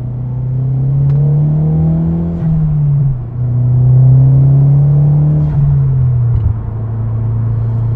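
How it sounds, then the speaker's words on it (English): Cabin sound of a second-generation Mazdaspeed3 with a COBB catback exhaust, accelerating from a rolling start in second gear: a loud, steady engine drone rising in pitch, dipping briefly at shifts, then climbing again. "Interior sound, rolling start, accelerating from second gear."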